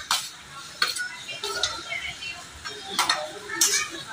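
Onion is dropped into hot oil with browned garlic and asafoetida in a pan and stirred, with a light sizzle under repeated metal clinks and scrapes of a spoon against the pan.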